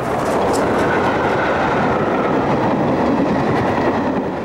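A Gresley A4 steam locomotive hauls a train, giving a loud, steady rumble and rolling wheel noise that holds unbroken and close throughout, with no voices.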